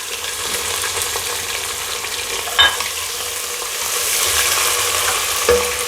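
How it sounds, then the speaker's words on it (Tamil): Steady, loud sizzling of onions frying in a hot pan, with a couple of sharp stirring clinks over the continuous crackle. "இப்போ மெலுசாக நறுக்கி வச்ச வெங்காயம் சேர்த்துக்கிறேன்"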